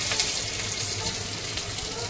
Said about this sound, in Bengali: পেঁয়াজ কুচি দিয়ে দেবো তেলে